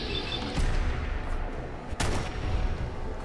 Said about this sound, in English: Brotherhood just decides to show up and airstrike this place